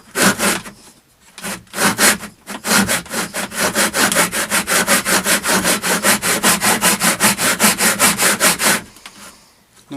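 Hand saw cutting through reclaimed wood planks, a loud, close, rhythmic run of rasping back-and-forth strokes that starts in short bursts, settles into a fast steady stroke, then stops near the end.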